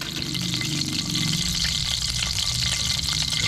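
Garlic and onion sautéing in a pan, a continuous close sizzle with some low clatter and watery hiss underneath, no talking.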